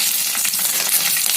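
Chana dal, curry leaves, onion and chillies fry in hot oil for an okra fry, a loud, continuous close sizzle with crackling bursts and faint stirring underneath.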